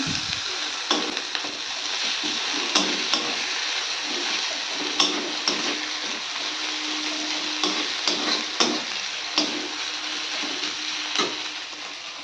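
Ginger frying in hot oil in a pan while being stirred for a Bengali tilapia fish curry, a steady close sizzle broken by repeated scraping clicks of the spoon, with no talking.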